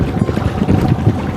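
A small wooden sampan, a traditional fishing boat, setting off on the water, heard as a loud, close, continuous rumble of water and wind without distinct splashes.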